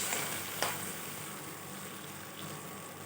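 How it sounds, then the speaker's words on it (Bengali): Mango pieces simmering in water in a pan, giving a steady soft bubbling hiss with a brief sharper crackle near the start, alone and close. "জলটা দিয়ে আমটাকে কিছুক্ষণ সেদ্ধ হতে দেবো যাতে আমটা ভালোভাবে সেদ্ধ হয়ে যায়"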